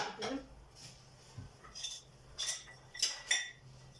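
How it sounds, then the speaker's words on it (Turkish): Dishes being washed by hand in a home kitchen: quiet clinks and clatters of cutlery and plates, scattered irregularly over faint running background noise. "Bugün bulaşıkları elimde yıkayacağım. Makineye atmayacağım"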